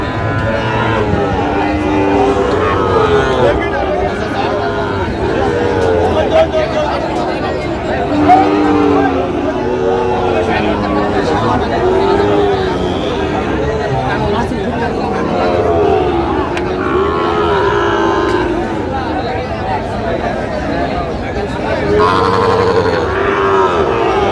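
Sahiwal bulls moo and grunt over and over at a busy cattle market, loud and close, with the murmur of the crowd and people talking around them.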